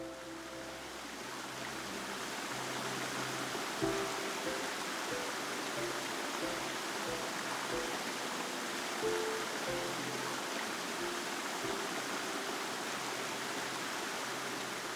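Water in a mountain valley stream below a village on Jirisan rushes in a steady, soft, continuous hiss, heard from a distance with no voices.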